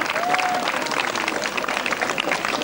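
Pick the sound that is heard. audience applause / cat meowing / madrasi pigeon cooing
audience applause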